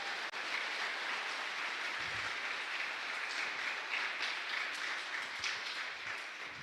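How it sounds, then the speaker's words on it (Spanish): Applause rises in a chapel during Mass for the church servers, a soft, steady patter of many hands clapping at a distance, continuing evenly for several seconds. "Un aplauso para ellos también"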